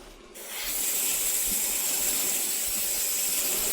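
A steady, loud aerosol brake cleaner spray hisses continuously onto a motorcycle wheel after a brief quieter start, with faint mechanical clicks underneath.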